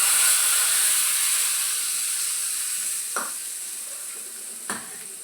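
Mustard seeds, cumin, turmeric and curry leaves sizzling in hot oil for a tempering with the gas turned off, a steady close hiss that slowly fades, with two brief clicks of a spoon.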